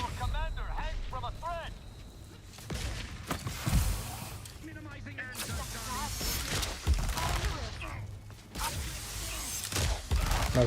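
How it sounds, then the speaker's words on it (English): Enemy gunfire in a video game, with bursts of rapid shots and mechanical clatter recurring across the clip, loud and close, mixed with other game sounds and voices. "there sure is a lot of dudes shooting me"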